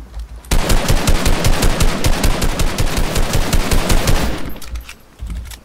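Loud, rapid machine-gun bursts crackle in Fortnite Battle Royale, a continuous stream of close shots lasting several seconds before tapering off, with a short final burst.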